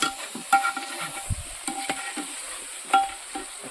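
Chicken biryani masala frying in a pot, with faint sizzling broken by stirring scrapes and knocks of a spoon against the pot.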